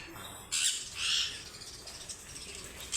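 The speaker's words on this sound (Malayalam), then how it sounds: "കുറേ കിളികൾ" Many birds, including lovebirds, squawking and chirping at a distance in a garden with passion fruit vines, faint scattered calls over a soft background hiss.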